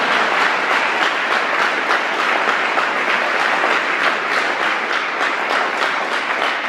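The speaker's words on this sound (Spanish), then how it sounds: "Dale un aplauso" A church congregation claps during a Spanish-language sermon, a steady wash of many hands with a faintly rhythmic pulse that holds at an even, fairly loud level throughout, with no talk over it.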